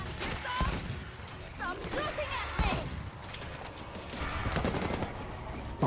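Rapid bursts of gunfire from the advanced combat weapon in World War Z: Aftermath, cracking repeatedly in a New York subway over a busy game soundscape, with voices talking in between.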